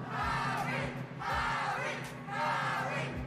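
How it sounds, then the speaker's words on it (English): Crowd cheering for Harry in the Xbox 360 Harry Potter and the Half-Blood Prince game, three swelling waves of roaring, shouting voices, loud and close, with a low game hum beneath. "Everyone cheering Harry right now while Skippy's playing"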